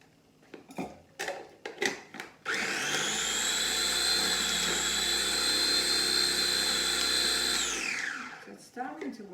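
A food processor whirs steadily for about five seconds while mixing chopped nuts and dried fruits into raw cacao ball dough, loud and close, with clattering and knocking of the bowl just before and after the run.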